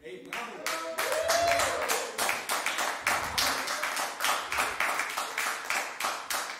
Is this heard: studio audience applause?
yes